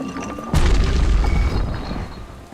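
A hand grenade detonates in the video game Bastion, a single heavy close boom that rumbles and decays over about two seconds.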